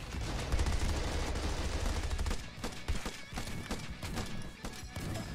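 M1 Garand rifle fire in the video game Tower Unite gun game: dense, continuous loud shots and rattling bursts packed together, with sharper isolated cracks as the volley thins toward the end.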